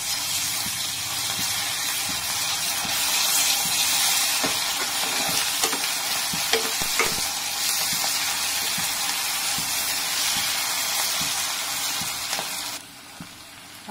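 Ginger garlic paste sizzles in oil with onions for green chicken, a loud continuous frying hiss broken by occasional stirring scrapes and clicks before it drops quieter near the end.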